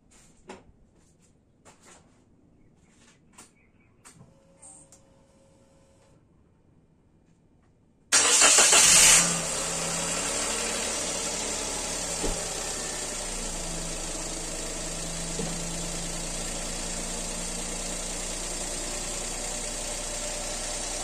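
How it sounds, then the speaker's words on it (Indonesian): After a few quiet clicks and knocks, the 1.0-litre engine of a Toyota Agya automatic starts abruptly and settles into a steady, loud idle that runs on, during an engine flush before an oil change. "kita nyalakan mesin selama kurang lebih 5 sampai 10 menit"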